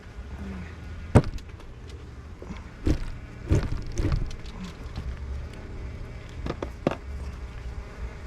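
Honey bees buzzing around an opened hive during a spring inspection as burr comb is cleaned off the frames, a steady low hum with several sharp knocks and clicks from handling the hive.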